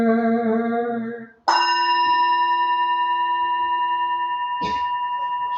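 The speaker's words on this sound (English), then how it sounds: "Here is the after sound of the bell." A temple bell at a Buddhist public service rings out with long sustained tones that hang and slowly decay, struck again near the end, its lingering after-sound filling the space with no talk.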